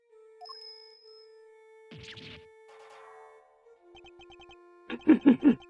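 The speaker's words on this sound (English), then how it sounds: "His appearance was always announced by the sound of bells." A ringing bell sound effect from the video game Ace Attorney Investigations 2 plays as a few soft tinkling chimes, then ends in a burst of several loud, bright rings in a quick rhythm.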